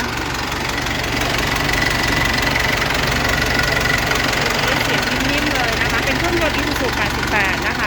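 Isuzu 88 diesel engine on a Thai E-taen farm truck runs with a steady, knocking rumble and close, even vibration throughout, while a voice talks over it.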